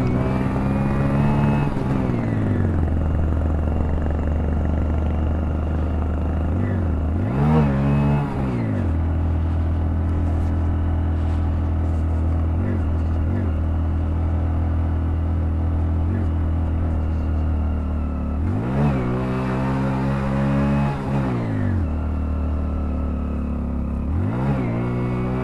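A Hero Splendor BS6 motorcycle engine labours up a steep mountain climb, a steady low drone held for a long stretch, with the pitch sagging and recovering several times as it strains under load.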